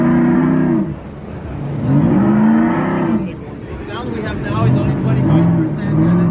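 A Formula 1 car engine revs close by in repeated surges, its tone climbing and dropping in a steady rhythm with short pauses between the revs.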